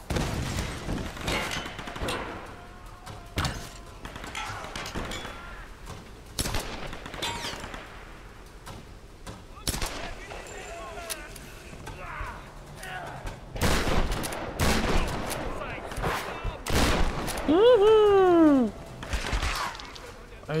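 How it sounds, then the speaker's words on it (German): Rapid machine gun fire and scattered shots in a Tomb Raider firefight come in repeated bursts over twenty seconds, loud and close, with a voice talking between them. "Der mit seinem scheiß Maschinengewehr."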